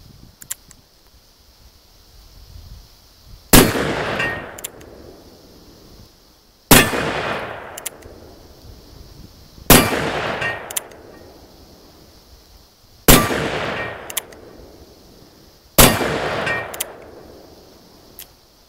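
Five loud, sharp reports from an 1881 Colt Frontier Six Shooter revolver loaded with five rounds, spaced roughly three seconds apart, each one cracking and then ringing out in a long decaying echo over a quiet background.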